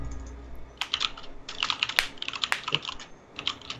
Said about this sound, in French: il faut que je tape dans mon. C'est dans mon clavier